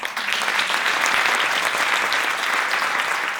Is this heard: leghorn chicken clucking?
no